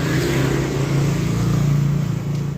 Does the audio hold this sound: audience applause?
no